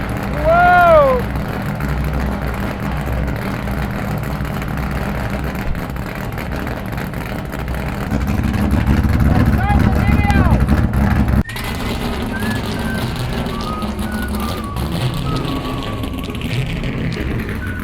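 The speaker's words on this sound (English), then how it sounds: "This car is so damn loud." A very loud C5 Corvette engine runs close up, a steady heavy rumble that swells in the middle with revving, with people talking over it.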